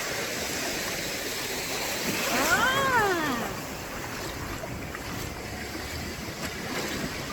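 Ocean waves wash continuously against the shore in a steady broadband rush, with a brief rising-and-falling high squeal, like a voice, partway through.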